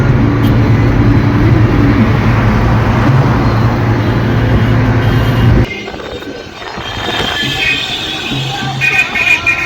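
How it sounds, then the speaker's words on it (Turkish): Busy street traffic in Cairo, with a steady loud rumble of cars and engines for the first half, then a quieter, more broken stretch of passing vehicles and horns. "Kötü trafik."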